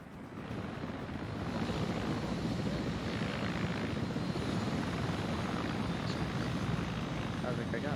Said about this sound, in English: There's an MI-24 operating somewhere on this area once it leaves.